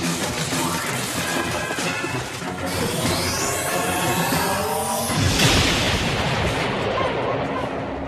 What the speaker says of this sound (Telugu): ఆ పేలుడు శబ్దానికి దొంగ పారిపోయి ఉంటాడు.